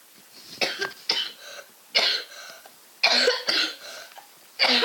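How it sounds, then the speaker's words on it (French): Repeated harsh coughs in short bursts, close and fairly loud, separated by brief pauses. "Excusez-moi parce que je tousse un tout peu."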